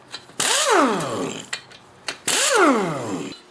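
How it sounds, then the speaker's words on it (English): An impact wrench with a 1/2 inch impact socket works on a blown Briggs & Stratton lawn tractor engine, giving two loud, close bursts of about a second each: a whining motor spin-up with rattling hammering, then a pause between them. "I'm going to use an impact wrench with an impact socket that is 1/2 inch"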